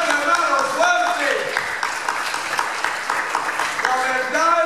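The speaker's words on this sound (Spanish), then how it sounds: "¡Denle un aplauso!" A church congregation breaks into applause, a dense wash of clapping mixed with shouting voices and cheers, loud and sustained for several seconds.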